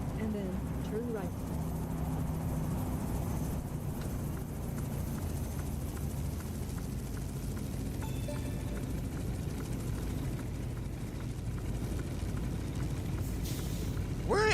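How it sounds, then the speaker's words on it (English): In American Truck Simulator, a helicopter flies nearby, giving a low, steady rotor drone under a truck's engine hum, with faint voices in the background. "Where is that helicopter at?"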